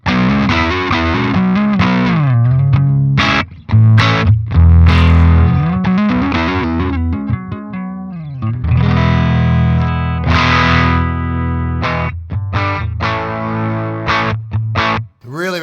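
Overdriven electric guitar through a DevTech Audio Skylight overdrive pedal: loud, gritty chords and single-note runs with sustained ringing notes, brief pauses between phrases, played alone with no talking.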